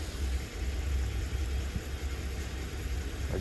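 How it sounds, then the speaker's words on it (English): A Honda car engine idles after its first start since 2019, a steady low rumble with slight unevenness, close and moderately loud, with no talking. "I got it starting, and she's idling."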